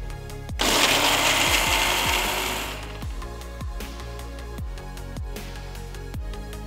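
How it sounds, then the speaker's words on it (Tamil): A mixer grinder jar pulverises roasted red chilies in a burst of harsh, whirring blade noise that runs loud for about two seconds, then settles into a lower rattling spin with repeated knocking thumps. "இப்போ ஒரு மிக்சர் ஜாரில் முதல்ல வறுத்த சிவப்பு மிளகாய் சேர்த்து பொடிச்சுக்கலாம்"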